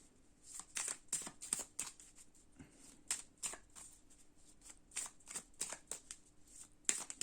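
Tarot cards being handled and shuffled, a series of crisp riffling bursts and soft slaps in an irregular rhythm, close and fairly quiet.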